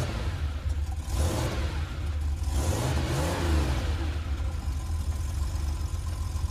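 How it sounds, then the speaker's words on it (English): Sports car engine revving up and easing back, a close mid-pitched roar that rises in a couple of swells over a steady running hum. "Now let's imagine you're in a sports car."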